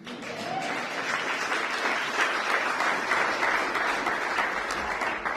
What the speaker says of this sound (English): I better get some applause.